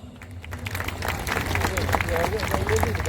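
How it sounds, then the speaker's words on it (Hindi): Audience clapping for Kishore sir at a folk music event in Bikaner, applause building from a quieter start into sustained crowd clapping, with a voice talking over it. "उसका नाम सुनते ही आप तालियां बजाएंगे"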